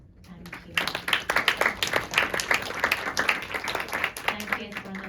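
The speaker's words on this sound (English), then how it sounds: "Could we give another round of applause?" Audience at a panel discussion applauding, a burst of close clapping that starts abruptly and continues steadily, with some voices mixed in.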